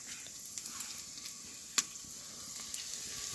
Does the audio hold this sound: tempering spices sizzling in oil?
yes